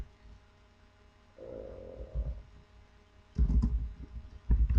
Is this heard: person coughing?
no